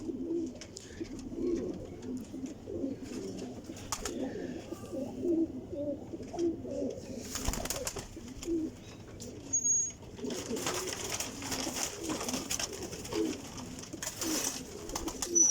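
Flying pigeons kept by a breeder in Jhelum coo softly and repeatedly in a low, steady murmur, with a few brief chirps, wing flutters and rustling noises mixed in close by.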